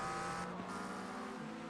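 A race car in a racing video game at Daytona 24 passing on the left, a steady loud engine drone with a shifting pitch as it goes by, alone without talk.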